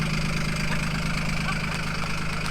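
A diesel golf cart engine runs at a steady idle, a continuous low, even drone with a faint knocking texture that holds level throughout, with no voices over it.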